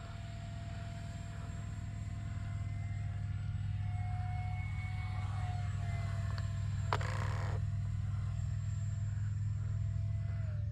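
A small 50mm EDF park flyer jet, the Arrows RC Viper, whines overhead in the open under a steady low rumble, with a faint tone shifting as it banks and one brief sharp click midway.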